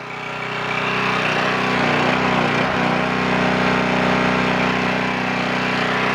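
An old portable generator that has sat unused for years runs on partial choke, a loud, steady, close engine drone with a constant low hum that holds throughout with no talk.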